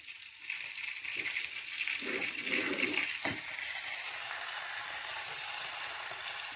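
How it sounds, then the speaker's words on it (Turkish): Spiced sauce poured onto a boiling broccoli and lentil soup sets off a sudden loud sizzle that settles into a steady crackling hiss, close and alone. "kaynamakta olan çorbamın üzerine sosumuzu dökeceğim"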